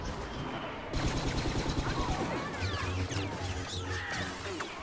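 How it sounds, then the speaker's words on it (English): Star Wars Battlefront video game battle where a lightsaber deflects blaster bolts amid dense, rapid shooting, with sweeping whooshes and crackling impacts layered over a constant loud barrage. "Listen to when he's blocking the bullets."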